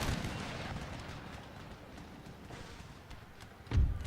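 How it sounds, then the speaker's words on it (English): Musket volley fire from line infantry in the Empire: Total War battle game, heard as a rough rattle of distant shots under battlefield noise, with one heavier report near the end. "they're riding straight into volley fire by the line infantry"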